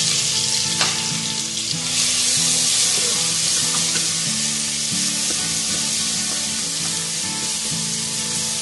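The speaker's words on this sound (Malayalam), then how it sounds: "ജിഞ്ചർ ഗാർലിക് പേസ്റ്റ് ആഡ് ചെയ്യാം." Ginger garlic paste sizzles steadily in hot oil in a pan while cooking Malabar dry beef, a loud continuous frying hiss with occasional stirring scrapes and no talking.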